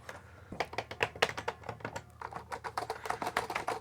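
Quick, steady clatter of keys as someone types on a donated laptop's computer keyboard, close and fairly quiet, a brief pause before the tapping resumes at an even pace.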